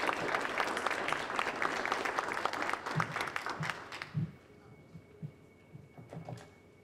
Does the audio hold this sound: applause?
yes